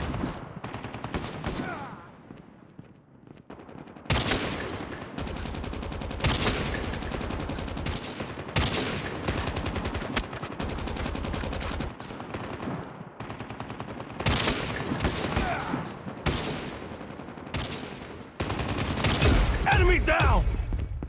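Rapid automatic gunfire and single shots from the Call of Duty Mobile video game, loud bursts repeating almost continuously for twenty seconds with brief gaps between volleys.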